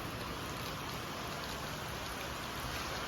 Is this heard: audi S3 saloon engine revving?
no